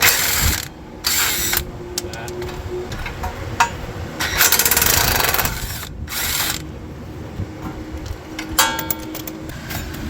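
A wrench loosens a 22mm nut on the front passenger strut of a 2002-2006 Honda CR-V, with rapid ratcheting clicks and mechanical clatter in repeated bursts, close and loud, broken by short pauses.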